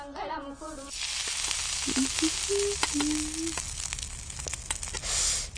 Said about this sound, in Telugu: పూరీలు నూనెలోనే వేస్తారే, నీళ్లలో కాదు.